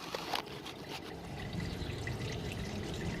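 Used engine oil draining from a car engine pours in a steady, close trickle with a splashy, continuous flow and no pauses.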